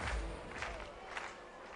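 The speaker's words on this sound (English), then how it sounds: "Listen to the cheer from the crowd for the sky serve." Spectators cheer at a beach volleyball match at the Gstaad Major, a distant, low, sustained crowd roar with a few louder swells.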